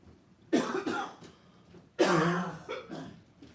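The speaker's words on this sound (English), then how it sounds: "I just couldn't stop coughing" Two bursts of harsh coughing, each a short cluster of rough coughs and throat clearing, close to the listener with quiet gaps between.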